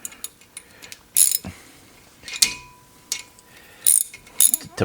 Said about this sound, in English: and then just tighten them up with a wrench.